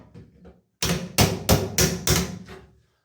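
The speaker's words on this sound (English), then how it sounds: "all I have is my drill here, and then what we'll do is we'll just get a wee tighten" Cordless power drill tightening a fitting while repairing a Milano Nero shower temperature control, heard as five loud, close, evenly spaced bursts of whirring after a quiet start.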